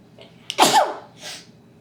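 A single close sneeze, a sharp intake followed by an explosive burst and a fading breathy tail.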